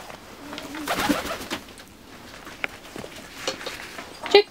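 Domestic ducks or poultry vocalizing near snow, a few soft coo-like calls and squawks rising through a quiet, rustling background, with a sharper close call near the end.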